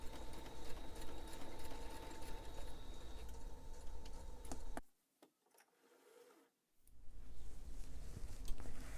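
Sewing machine stitching a quarter-inch seam across a zippered fabric pouch, a fast steady mechanical whir that stops for a couple of seconds, then resumes just as close and busy.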